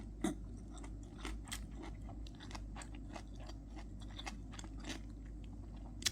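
Someone chews a mouthful of kimbap up close, and the moist, soft bites come with small crunchy clicks in an irregular rhythm. The sound is faint with no speech.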